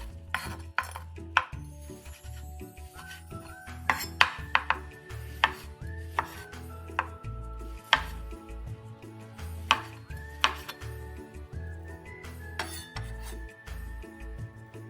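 A knife dices tofu skin on a cutting board, producing sharp, close, evenly spaced chopping knocks in a steady rhythm throughout, with light clinking between strokes.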